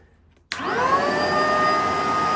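A Bissell vacuum cleaner switches on abruptly and runs with a loud, steady whirring roar and high-pitched motor whine, close by.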